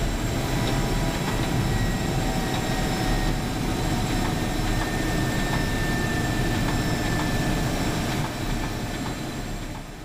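A Mi-26 helicopter, the world's largest, starts to taxi, a loud continuous turbine roar and whine with deep rotor rumble, heard steady and close from the cockpit.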